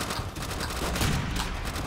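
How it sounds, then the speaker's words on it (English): Gunfire in Call of Duty: World at War comes as a dense, continuous rattle of rapid shots, loud and close throughout, with no pause in the burst. "I love this gun."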